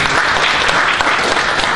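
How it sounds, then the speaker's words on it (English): A room of friends and colleagues at a business gathering gives Pak Khairul a dense, steady round of applause. It holds at an even loudness throughout, with no talk on top. "Friends and colleagues, let's give us applause to Pak Khairul"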